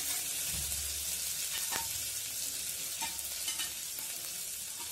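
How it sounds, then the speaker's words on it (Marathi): Chana dal sizzles steadily in an oil tempering, a dense continuous fry close up with a few faint stirring clinks, no talk. "साधारणतः 3 ते 4 मिनिट तुम्हाला हरभऱ्याची डाळ या फोडणीमध्ये होऊ द्यायची आहे"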